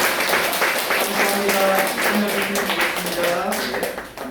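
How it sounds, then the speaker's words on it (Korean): A church congregation applauding during a Sunday worship service, a broad patter of many hands with sharper individual claps, voices mingling faintly beneath, the clapping tapering off at the end. "다시 한번 한 해 박수 주세요."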